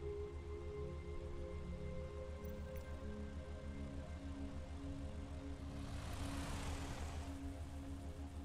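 Twin propeller engines of a BN-2 Islander drone steadily in a flight simulator, with a low, even hum and a swelling rush of passing air near the end.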